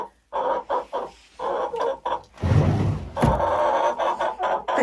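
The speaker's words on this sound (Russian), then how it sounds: "такие куры должны быть в хозяйстве обязательно. Куры-несушки." Egg-laying hens of a laying breed cluck and squawk in a farm coop, with repeated close, fairly loud bursts and a busier stretch of overlapping calls midway.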